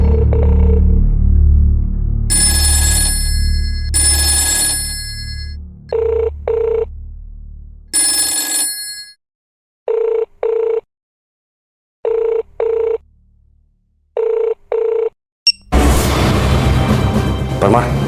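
A phone booth telephone rings in repeated short double bursts with silent gaps between them, preceded by low rumbling and a bright ringing tone, and ending in a sudden noisy burst.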